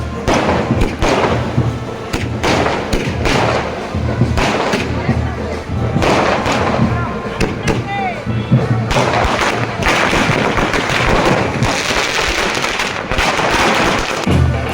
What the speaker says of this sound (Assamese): এতিয়া ফটকা ফুটাব